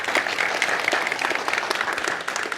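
A warm round of applause from a conference audience greets the co-founder and CEO of Supercell, with loud, dense, steady clapping throughout and no talk.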